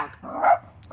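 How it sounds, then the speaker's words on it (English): A puppy barks outdoors, one loud sharp bark swelling in the middle of a short burst, with a softer yip trailing at the end; no talking. "I'm outside with my puppy and she kind of saw something that she just had to bark at"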